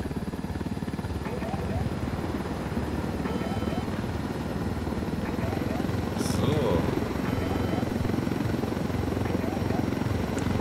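Helicopter in the video game Ghost Recon: Wildlands, a loud, steady rotor and engine drone that runs through the whole stretch while players talk over it.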